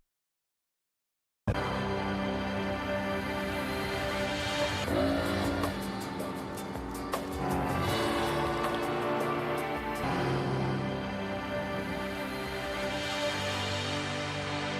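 An Evinrude E-Tech outboard boat engine running at a fish camp, starting abruptly after a moment of silence; a loud, rough, sustained drone with shifting revs and some rhythmic pulsing midway, with no talking.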